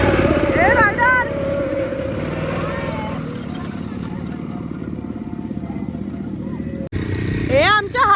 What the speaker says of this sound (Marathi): आमच्या हर्षूनी बाईक चालवली.